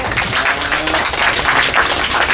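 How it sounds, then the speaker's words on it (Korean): A gathering at a Korean community association event in Sydney claps for an award presentation, a steady, fairly loud patter of hands rising and falling in small surges. "그렇게 알고 기쁜 마음으로 박수로서"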